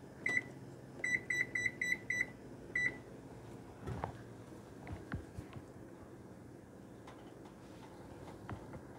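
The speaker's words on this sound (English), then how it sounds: "Now I'm going to set the timer for 5 minutes" A kitchen timer gives a string of short electronic beeps as it is set, about eight quick tones in irregular bursts near the start, followed by faint clicks and kitchen rustle.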